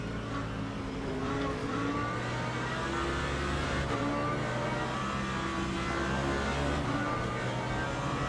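A supercar races past in the sim racing game Le Mans Ultimate at Sebring, its engine drone rising and holding steady through the pass, loud and continuous with shifting pitch.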